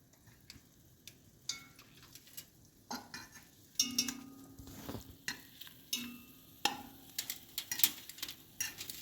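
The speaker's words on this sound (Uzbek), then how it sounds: "Yani shu yog'da qovurib olamiz." Meat frying in hot rendered fat at an Uzbek street-food stall, a steady soft sizzle broken by frequent sharp clinks and scrapes of a utensil stirring against the pan, close and fairly quiet, with no talking.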